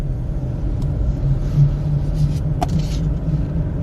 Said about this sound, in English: move it into first gear, and then let go of the brake, the clutch, keep easing off of it, and then it starts to move, and then give it more gas